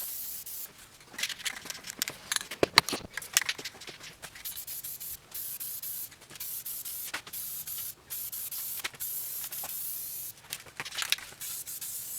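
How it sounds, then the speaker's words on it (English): Flat black top coat sprayed onto a Honda CR-V part in steady, close hissing bursts. The passes flutter on and off repeatedly over about twelve seconds, alone without any talking. "So now I'm going to hit it with the final top coat of flat black."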